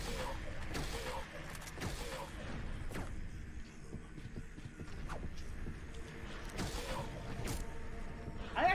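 Gunshots in a Silent Hill video game, a string of sharp, spaced reports scattered across the stretch, moderately loud over a busy game background.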